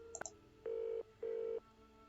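Telephone being dialed in the Nancy Drew game The Haunting of Castle Malloy: a short keypress blip followed by two steady, identical dial tones of about a third of a second each, clean and close with no talking.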